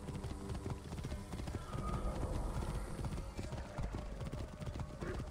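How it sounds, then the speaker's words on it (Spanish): Horse hooves clip-clop at a steady galloping rhythm in the video game Assassin's Creed Origins, prominent and continuous, with a whinny and voices talking over it. "El caballo Nino del desierto."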